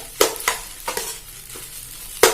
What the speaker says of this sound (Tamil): நல்லா கிளறிக்கணும்.